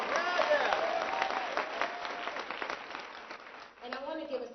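A conference audience applauds at a plenary session, dense steady clapping that tapers off as a voice begins speaking over it.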